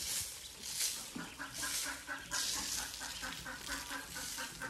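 Ducklings in a brooder chirp and peep continuously while being fed grain, a busy overlapping chorus of small high calls throughout.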